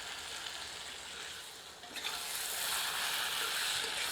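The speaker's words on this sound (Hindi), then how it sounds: "3 से 4 मिनट तीव्र आंच पर भूनने के उपरांत आंच मध्यम कर लें और इसे 2 से 3 मिनट और भूनें" Mutton with spices frying on high flame for Odia mutton aloo jhol: a dense, hissing sizzle that grows louder and brighter midway and stays steady, with no voices.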